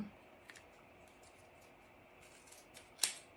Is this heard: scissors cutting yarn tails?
yes